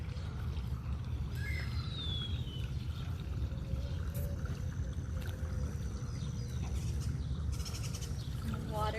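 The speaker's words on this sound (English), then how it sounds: "Water just flows through." Water runs steadily through a small indoor river feature in a public library, a continuous low splashing flow that fills the background, with faint distant voices and a few chirpy sounds over it.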